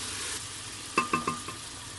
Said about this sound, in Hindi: सिरका डालने के बाद इसे 2 से 3 मिनट ज़रूर दें भूनने के, ठीक है, जैसे कि ये भून रहा है